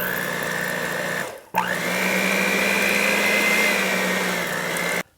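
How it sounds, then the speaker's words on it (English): An electric mixer whirs steadily on slow speed through cream cheese for keto fudge, a loud continuous motor drone that stops briefly, restarts with a jolt, and cuts off at the end. "take your cream cheese and mix that in for 2 minutes on slow"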